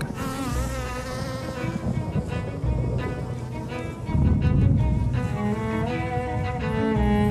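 Honey bees buzz steadily while foraging in the fields as rain approaches, a dense continuous drone that swells louder midway and stays full and close to the end.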